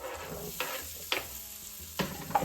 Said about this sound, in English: Now we're going to cook the peppers